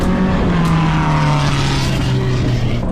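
Golf carts drag racing, a loud continuous motor whine that slowly drops in pitch as a cart runs close by, with steady road rumble underneath.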